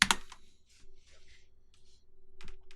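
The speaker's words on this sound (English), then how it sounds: "I'm going to hit Control down on my keyboard" A few computer keyboard keys are pressed as shortcuts while making beats in FL Studio, faint scattered clicks at close range in a quiet room, with a soft low hum beneath.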